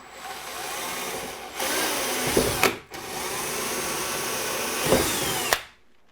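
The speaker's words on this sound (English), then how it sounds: "Take a drill bit that is slightly smaller than the screw for that knob and drill a pilot hole" A power drill whirs in two sustained bursts, drilling a pilot hole for a bi-fold door knob screw, each several seconds long, straining briefly near the end of each run before winding down.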